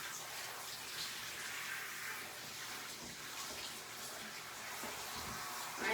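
Water runs steadily from a tap or sprayer, rinsing a yellow Labrador during grooming. It is a soft, even hiss and splash throughout, fairly faint, with no clear talk over it.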